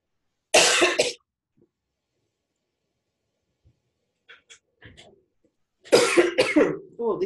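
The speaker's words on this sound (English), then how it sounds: "Oh, this cough, hope it goes away." Two bursts of harsh coughing, each a quick cluster of rough coughs, separated by a quiet stretch with faint small noises.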